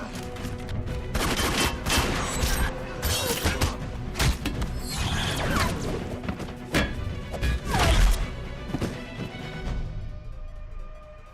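Rapid volleys of gunfire from a fight scene in Captain America: The Winter Soldier crack through a dense, loud mix, with crashes and impacts layered over a steady musical score.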